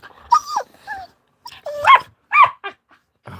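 Dogs, including a puppy, play-fight with short barks, yips and whining growls in separate bursts, close and fairly loud with quiet gaps between them.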